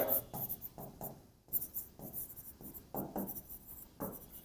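Pen or pencil on paper writes out a Class 5 percentage math solution, a series of short scratchy strokes in quick bursts with a brief pause, close and alone.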